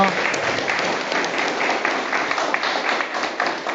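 An audience applauds after a presentation, a dense steady clapping from a roomful of people, loud and continuous throughout.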